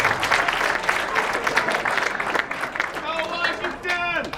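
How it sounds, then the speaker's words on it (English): Audience applause for a middle school jazz band at the Reno Jazz Festival, a loud sustained burst of crowd clapping with cheers, and a voice speaking over it near the end. "Let's give it a applause for them."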